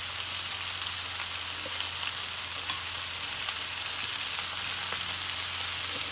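Sausages and lentils fry in an electric slow cooker with a soft, even, continuous sizzle and a few faint stirring ticks, heard alone.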